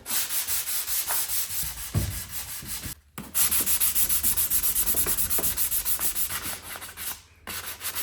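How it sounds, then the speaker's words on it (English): Steady rhythmic sanding of wood putty on a mid-century modern dresser with 400-grit sandpaper on a sanding block, close and fairly loud, brief pauses between runs of back-and-forth strokes. "I'm gonna take a piece of 400 grit sandpaper and sanding block and sand this wood putty off now"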